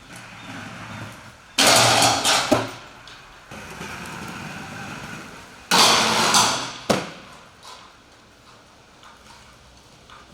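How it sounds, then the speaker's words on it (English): A skateboard grinds a chain, with two loud scraping bursts, each ending in a sharp thud and separated by a few seconds of quieter background. "You just grinded your first chain."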